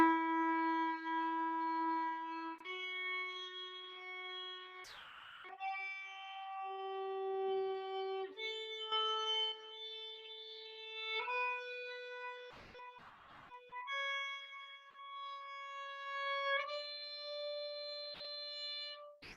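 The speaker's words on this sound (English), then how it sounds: "The first one's going to be 1 long note, so 1 long bow per note." A violin plays a sequence of long bowed notes, one semibreve per bow, each pitch held steady before shifting to the next, with faint bow scrapes between changes and no talking.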